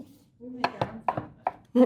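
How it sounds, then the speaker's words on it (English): Food is chopped by hand with a knife for brisket nachos: a handful of sharp, evenly spaced chops sound close by while a voice talks over them. "So just chop, chop, chop, chop, chop."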